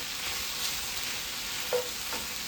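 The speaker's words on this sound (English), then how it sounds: "So let's put our garlic in." Garlic sizzles in hot sausage fat in a pan, a steady close frying hiss with a brief stir or scrape partway through and no voices.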